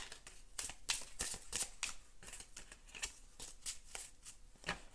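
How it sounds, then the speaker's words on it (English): A deck of tarot cards is shuffled by hand, giving a quick run of crisp riffling bursts and flicks, close and fairly quiet, with no talking. "let's just shuffle a little bit here"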